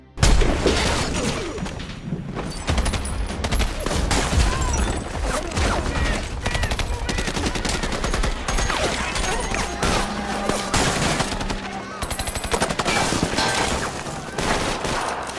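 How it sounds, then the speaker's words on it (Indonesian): Gunfire in an action film battle, loud dense bursts of shots and booms running continuously throughout, layered with heavy action soundtrack; no clear single isolated sniper shots stand out. "Mayor Bidwell dengan kehebatannya ia mampu menghabisi 2 orang sniper musuh hanya dengan 1 peluru"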